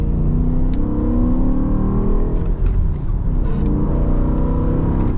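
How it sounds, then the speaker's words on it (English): A BMW M5 Touring's V10 revs with its exhaust valves closed, giving a steady, loud, muffled engine drone that swells and dips slightly, heard close up with no talking. "we're first going to show you what it sounds like with the valves closed"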